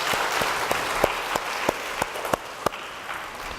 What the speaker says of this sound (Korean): 우리 박수 한번 해주면 좋을 것 같아요.